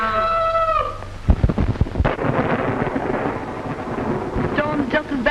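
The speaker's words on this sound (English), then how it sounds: "Storm's just as bad as ever, isn't it? Worse." A heavy thunderstorm with rain from an old thriller film: crackling thunder claps and a sustained rumbling roll over steady rain, loud and close, with a brief tonal sound at the start.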